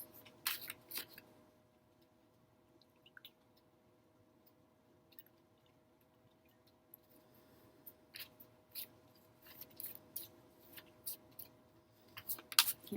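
Tarot cards are shuffled in scattered bursts of soft riffling and slapping. The sound is close and faint over a quiet background with a steady low hum, sparse at first and then coming more often near the end.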